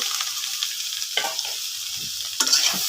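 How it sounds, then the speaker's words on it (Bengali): Noodles being stir-fried with chopped tomato and vegetables in a pan, a steady close sizzle broken by scraping stirs at intervals. "নেড়ে চেড়ে মিশিয়ে নেব সবজির সাথে।"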